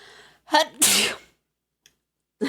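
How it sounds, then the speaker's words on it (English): A person sneezes right into a microphone: a quick sharp intake, then a loud explosive burst up close, followed by silence and a brief breath. "I sneezed right into the mic, too."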